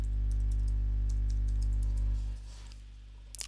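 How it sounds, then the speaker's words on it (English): Quick, light key taps on a computer keyboard while a Wi-Fi password is entered on a Mac, faint over a loud low hum that fades about two thirds of the way through. "click on connect, type in the password"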